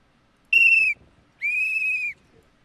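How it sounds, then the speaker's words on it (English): A man blows a whistle in two loud, sustained shrill blasts, the first about half a second and the second longer, with a short silent gap between them. "That he's blowing the whistle."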